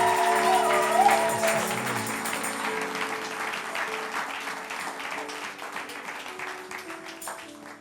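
Church congregation at an evening service applauding together, a dense sustained wash of clapping with a low musical hum beneath, gradually fading out over several seconds.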